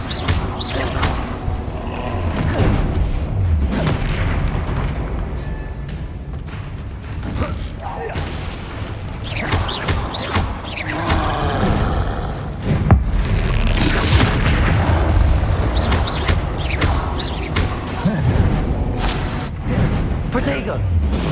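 Confringo blasting spells in the Hogwarts Legacy game: repeated heavy booms and crashing impacts with whooshes through a busy battle, under frequent spoken voices.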